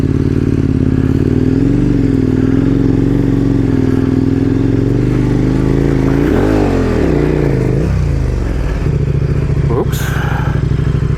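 A dual sport motorcycle rides through loose desert sand, its engine droning loudly and steadily up close with revving swells, clattering and a sharp scrape toward the end.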